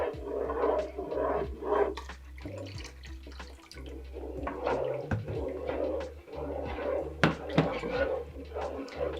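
Baked potato soup being stirred in a pot with milk added, soft scraping and clinking of a utensil against metal, with light liquid sloshing under a low background hum.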